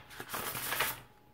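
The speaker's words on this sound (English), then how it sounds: "You can shuffle them like normal playing cards." A quick, soft riffle of oracle cards being shuffled, a brief flurry of light flicking snaps close by.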